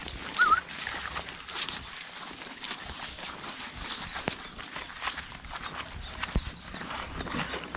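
Mares' hooves clop on hard ground at an unhurried walking pace, close by, with faint outdoor background noise.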